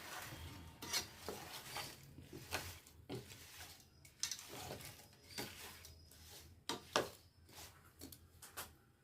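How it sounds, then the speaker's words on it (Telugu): A spoon stirs a cooking mixture seasoned with salt and turmeric in a metal pot, making repeated scraping clinks in an uneven rhythm, close and moderately quiet, with no voices. "కలుపుకుందామండి బాగా."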